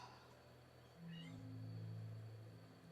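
A kitten gives a couple of short, rising meows from nearby, over a low steady hum in a quiet room, with a brief higher squeak just before.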